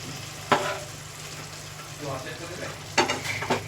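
Spice masala for a boal fish curry frying in a pan, a low steady sizzle broken by several scraping stirs of a spoon.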